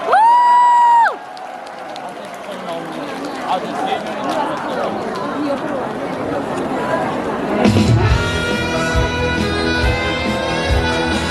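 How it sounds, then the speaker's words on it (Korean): Festival crowd at the Boeun jujube festival clapping and cheering to welcome a singer onto an outdoor stage, a steady roar of applause and voices, with stage music starting up partway through. "여러분들 뜨거운 박수로 환영해주세요."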